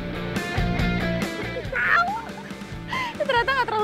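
An ostrich provoked into fighting by its keeper gives loud, honking, goose-like calls in several bursts, some rising and wavering, close to the microphone amid a little background noise.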